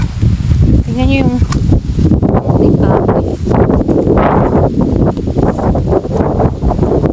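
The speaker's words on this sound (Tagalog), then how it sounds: "Grabe, sobrang lakas talaga ng hangin dito." Strong wind buffets the microphone in a steady, heavy roar over a farm of mango trees and flattened crops, with a person talking over it throughout.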